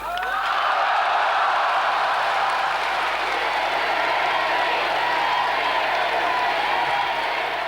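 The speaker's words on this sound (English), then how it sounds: "the crowd roared so loudly they must have heard it over in Pankow" A large crowd in Berlin, June 26, 1963, roars and applauds loudly and continuously at a Kennedy speech, a dense wash of cheering and clapping that holds steady throughout.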